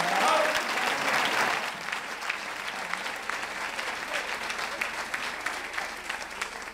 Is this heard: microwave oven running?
no